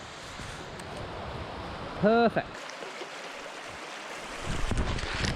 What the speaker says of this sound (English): there is an awesome waterfall